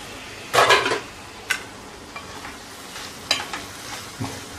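Bitter gourd and onion curry cooking in a pan, with a few stirring scrapes and clinks against the pan over a low background, mostly sparse bursts rather than steady sizzle.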